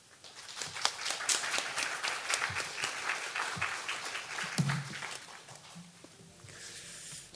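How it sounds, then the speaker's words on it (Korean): Sustained audience applause at a Jeju Biennale pre-conference in Korea, following a lecture on Chusa and his Jeju exile; steady dense clapping that carries through and begins to thin out toward the end. "수고해 주신 최열 선생님께 다시 한번 큰 박수 부탁드립니다."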